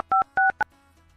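Three electronic phone keypad tones, two longer presses and a short final one, each a clean two-pitch beep, close and clear against a quiet background.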